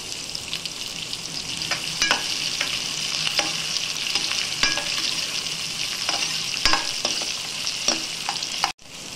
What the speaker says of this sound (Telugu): నూనె కాగిన తర్వాత 3 తరిగిన ఉల్లిపాయలు వేసి కలుపుకోవాలి.